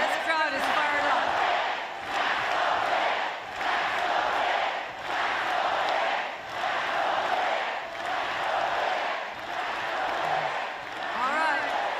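A rally crowd chants in unison to drown out a speaker on stage, loud rhythmic waves of voices rising and falling about every second and a half.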